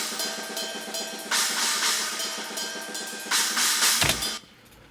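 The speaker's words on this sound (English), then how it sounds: "Then we have a China microphone, also important. Sounds like this." A China cymbal, heard through its own close drum microphone, crashes repeatedly in a fast rhythmic pattern with bright, trashy washes over driving drums, loud and without talk.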